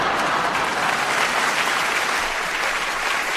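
Audience applause fills a room in a steady, dense wash of clapping that runs unbroken at an even, fairly loud level, with no voices standing out.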